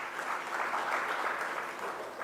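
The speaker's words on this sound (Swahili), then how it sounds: "Tujipigie makofi jamani." An audience applauds at an AfCFTA business forum, a steady, dense wash of clapping with no breaks and no voices over it.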